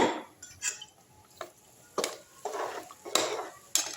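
A mixer jar being rinsed in a kitchen, with several separate clinks and knocks of metal and glass against a sink, scattered irregularly over a few seconds at moderate closeness, no talking.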